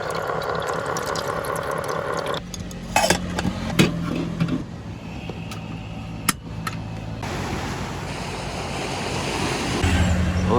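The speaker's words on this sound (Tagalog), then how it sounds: "Dagat." Sea waves rush and wash steadily beside a camping site in Bohol, broken by abrupt shifts in level and a few sharp knocks and clatters from nearby activity.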